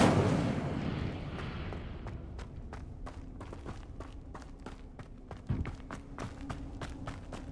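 An Incendio fire spell cast in the Hogwarts Legacy video game bursts out loudly at the start and fades into a low rumble, followed by scattered sharp clicks and footstep-like taps.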